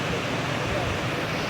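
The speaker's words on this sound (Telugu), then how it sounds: "చూడండి ఎంత బాగా పోతున్నాయో నీళ్ళు" Water rushes steadily over the overflow of a village lake, a loud, continuous broadband roar that stays even from start to finish.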